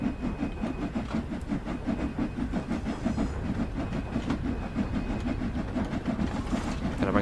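A steam locomotive pulling the Jubilee Express out of Crewe in Train Sim World 2 chuffs in a fast, rhythmic beat with a steady hiss and wheel clatter, loud and continuous.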